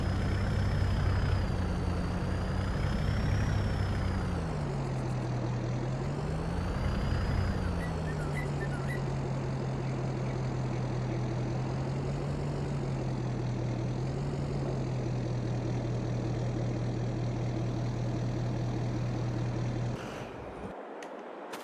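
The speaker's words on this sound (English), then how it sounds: "Let's get back in the truck, move it out of the way." A truck engine in Farming Simulator 22 drones steadily and loudly throughout, its pitch rising and falling as the engine revs, with no talk over it and a brief drop near the end.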